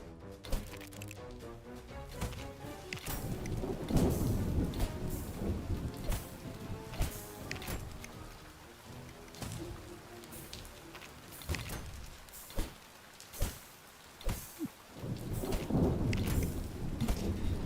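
Thunderstorm in a video game: heavy rain hisses steadily throughout while repeated thunder cracks and deep rumbles roll in, some close and sharp, others distant, with no talking.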